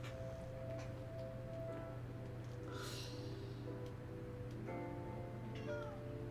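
A cat meows a few times, fairly faint and drawn out, over a low steady hum with no talking.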